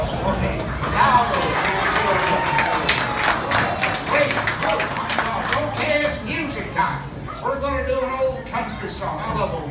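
An audience at a saloon show breaks into scattered clapping and some cheering after a rope trick. The applause is moderately loud and uneven, and a performer's voice comes through over it.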